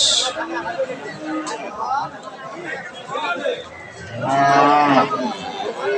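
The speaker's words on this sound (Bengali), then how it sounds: "এটা একটা ব্ল্যাক ফ্রিজিয়ান গরুটা কিন্তু বিশাল সাইজের" A large black Friesian cow, nine months pregnant, at a cattle market gives a loud drawn-out moo near the end, preceded by a shorter low call, amid nearby chatter and market voices.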